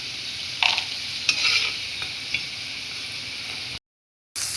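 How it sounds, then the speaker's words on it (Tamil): Three small potatoes fry in oil in a pan until golden, giving a steady hiss of sizzling with a few brief scraping stirs, then cutting out abruptly near the end. "தேவையான அளவுக்கு எண்ணெய் ஊற்றி 3 சின்ன உருளைக்கிழங்க பொன்னிறத்துக்கு வறுத்து எடுத்துக்கலாம்"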